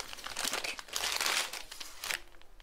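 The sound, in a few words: bubble envelope being handled and opened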